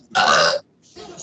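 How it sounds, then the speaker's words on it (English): A single loud, throaty burp lasting about half a second, followed by a softer voiced sound, during an English class held as an online meeting. "Excuse me, I burp."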